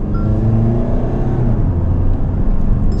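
A 2024 Mahindra XUV700 AX5 accelerates on the road, its engine a loud, steady low rumble and whir heard from inside the cabin with no talk over it.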